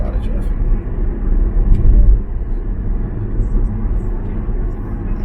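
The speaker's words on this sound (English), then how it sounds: "We got a lot of traffic today." Steady low road-traffic rumble heard from a motorcycle on a ride from Dallas to Florida, continuous and fairly loud with a swell near the middle, with talk over it throughout.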